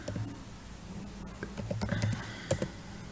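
A password typed into MySQL on a computer keyboard, with scattered close clicks of keys, some clustered and one sharper tap, over a quiet room with no talking.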